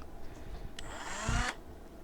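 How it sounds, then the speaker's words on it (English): Dremel rotary tool slowly opening the axle channels on a 1968 Redline Silhouette die-cast car: a brief, quiet high whine that rises in pitch for under a second, then cuts off. "I'm going to use my Dremel here"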